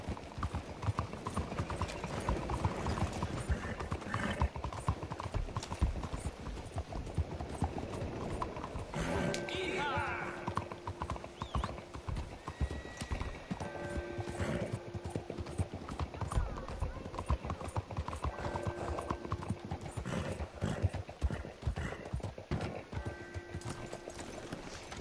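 Horse hooves clip-clop steadily in the video game Red Dead Redemption 2, a continuous rhythmic trot with creaking tack and faint mechanical rattles, while people talk over it.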